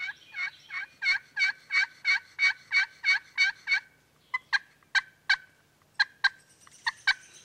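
Yelps made on a glass slate turkey call imitate a hen turkey, about a dozen evenly spaced loud two-note notes followed by a few sharper, sparser yelps.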